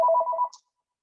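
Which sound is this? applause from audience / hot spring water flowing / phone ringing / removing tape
phone ringing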